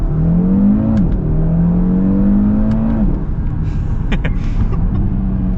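An Audi RS3 engine revs hard through rising gears, pitch climbing and dropping at each shift, loud and close with a steady roar.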